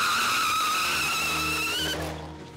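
Tires squealing hard as a car skids on a racing circuit, a loud sustained whine with wavering pitch over engine drone, stopping abruptly before the engine note fades away.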